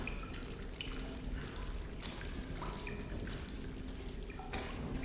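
Water dripping and trickling in the Tomb Raider video game, a steady low wash with scattered bright drips, faint and continuous with no talk.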